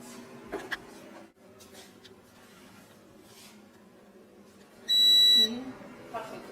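A kitchen timer goes off while pão de queijo bakes, sounding a loud, shrill electronic beep for about half a second. Quiet kitchen clatter and faint talk come before it.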